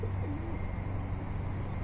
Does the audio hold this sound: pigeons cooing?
yes